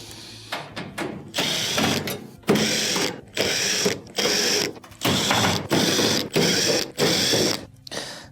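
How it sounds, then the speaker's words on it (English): Phillips screws being driven out of the upper rear panel of a range oven, loud close bursts of power-driver whirring repeated in short on-off runs with brief pauses between, no talking. "There are multiple Phillips screws around it that'll have to be taken out."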